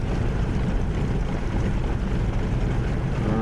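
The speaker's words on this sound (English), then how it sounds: "Okay, engine one start." An aircraft engine runs in a flight simulator video game, with a continuous, even, droning roar heard alone at moderate level.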